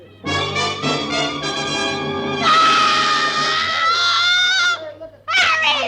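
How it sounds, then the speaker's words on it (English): A woman in a 1949 radio suspense drama shrieks loudly, a drawn-out high scream that rises in intensity, breaks briefly, then resumes sharply at the end. "And then she threw up her hands and shrieked."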